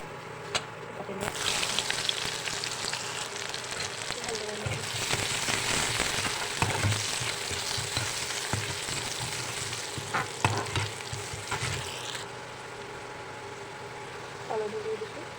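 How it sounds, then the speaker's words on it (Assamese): Cumin and bay leaf hit hot oil and erupt into a loud, crackling sizzle that holds steady, with intermittent spoon scrapes and pops throughout before it quietens near the end. "তেল গৰম হৈ আছে ইয়াতে অকণমান জিৰা গুড়ি দিছোঁ তেজপাত আৰু দি দিম"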